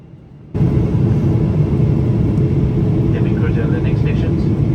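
Steady, loud cabin roar of a Singapore Airlines airliner on landing approach, with engine and airflow rumble starting abruptly and holding constant, plus faint higher chimes or tones late on.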